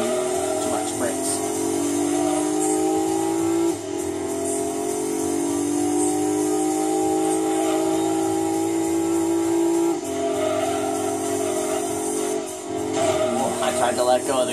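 A car engine in Gran Turismo 2 drones steadily, its tone dipping a few times as the throttle eases off, with some speech-like sound mixed in.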